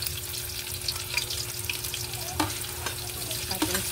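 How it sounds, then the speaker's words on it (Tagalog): Onion drops into hot oil in a frying pan while a pork liver dish is cooked, giving a dense, loud sizzle throughout with small crackles and pops scattered across it. "Ilalagay na natin ating sibuyas."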